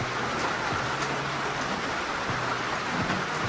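Steady rain falls continuously in the Philippines, a dense hiss of drops close by that never lets up, with no voices over it.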